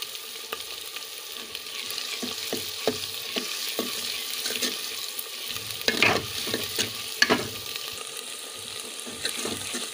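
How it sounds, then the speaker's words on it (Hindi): Garlic frying in a pan for dal, a quiet running sizzle broken by irregular scraping stirs and clinks of a utensil, with a louder flurry around the middle and no talking. "लहसुन भी हमारा भुन गया और अच्छी सी खुशबू आने लगी है"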